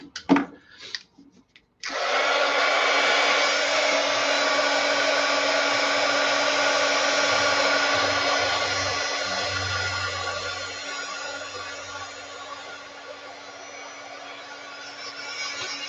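A hair dryer drying a mixed media painting of watercolor, embossing powder and gold leaf switches on after a few faint clicks and runs as a loud, steady close whir that continues to the end.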